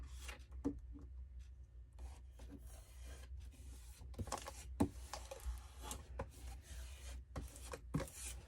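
Rubbing and scraping strokes from a thrift flip craft project, a close, dry, uneven friction that runs steadily with a few sharper knocks, no voices.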